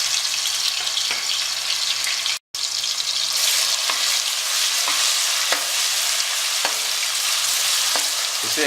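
Garlic ginger paste frying in ghee while being stirred continuously, a close and steady sizzle broken by soft scraping strokes and one brief dropout, with no voices.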